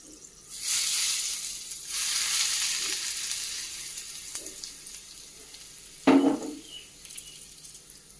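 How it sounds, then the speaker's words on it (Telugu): Tempering of dried red chillies and curry leaves sizzling in hot oil for cucumber, coconut and coriander chutney, with surges of frying hiss and a sharp metallic clink near the end, no voices. "ఇప్పుడు పోపు వేసుకోవాలి"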